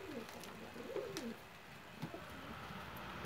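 Gift pigeons give a few soft, low cooing calls, clearest around the first second, then fade into a faint, steady outdoor background with no talking.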